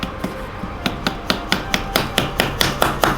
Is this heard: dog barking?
no